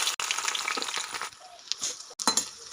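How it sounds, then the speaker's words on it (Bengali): Onions hit hot oil in a pan while cooking a Bengali dried-fish bhuna, giving a loud, broad frying sizzle that swells and dips with a few brief gaps and scraping bursts, with no talking. "তেল গরম হয়ে গেছে, দিয়ে দেবো পেঁয়াজ।"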